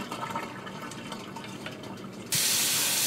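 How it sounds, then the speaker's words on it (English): After a quiet stretch, a tap suddenly opens and cold water pours steadily over gai lan in a strainer, a loud, continuous splashing rush that runs to the end. "So just rinse the Gai Lan briefly in cold water"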